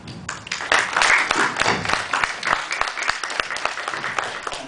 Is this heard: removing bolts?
no